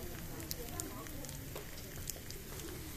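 Crackling bibimbap in a hot stone pot at a cheap Seoul eatery, a dense continuous sizzle with scattered pops, heard under talk and restaurant chatter.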